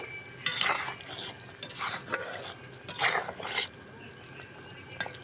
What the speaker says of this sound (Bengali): মাছগুলোকে দিয়ে দেওয়ার পর এরকমভাবে নাড়াচাড়া করে দেবে